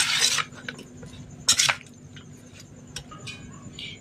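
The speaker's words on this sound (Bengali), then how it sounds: "সব উপকরণ দিয়ে দিয়েছি, ভালো করে মেখে নেবো।" Boiled potato chaat with tamarind water being mixed by hand in a bowl: soft wet squishing and light knocks against the bowl, in a couple of short bursts with quieter handling between.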